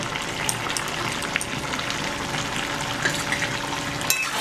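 Mutton with yogurt paste and cashew paste sautés in a pan, a steady close sizzle and bubbling with occasional small clinks, no talking.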